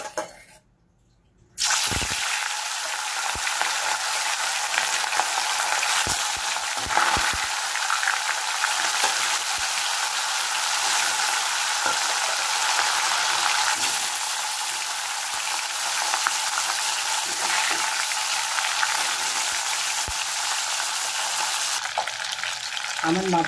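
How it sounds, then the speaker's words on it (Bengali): Hilsa fish fries in mustard oil with a loud, steady sizzle that erupts suddenly after a short silence and keeps crackling evenly, broken by a few faint clinks from the pan. "আমার মাছ ভাজা হয়ে গেছে।"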